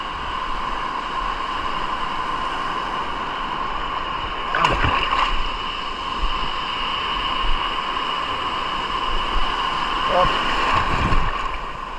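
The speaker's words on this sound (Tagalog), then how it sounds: "Dito na tayo sa naglalaki ang alon." Steady wash of water and wind noise around a small fishing boat, with a couple of louder splashing surges as large sea waves hit, voices faintly present.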